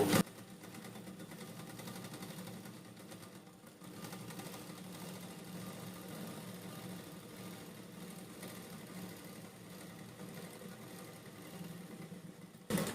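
A sewing machine runs a plain stitch in one steady, continuous motor whir, fairly quiet and uninterrupted for the whole stretch, with a brief click at each end.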